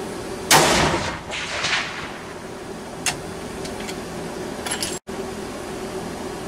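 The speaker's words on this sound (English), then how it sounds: "I'm going to shoot two of these Winchester bullets" A 7mm Remington Magnum rifle fires Winchester bullets outdoors at a 300-yard target: one loud, sharp blast near the start rolls off in a long echo, followed later by a few faint clicks over steady background hum.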